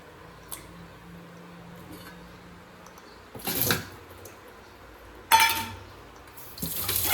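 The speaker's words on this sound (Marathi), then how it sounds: "या शेंगा ज्या आहेत त्या व्यवस्थित धुवून घेते 2-3 पाण्याने" Drumsticks (moringa pods) are rinsed in water in a kitchen, with quiet handling, then three separate bursts of splashing and sloshing water.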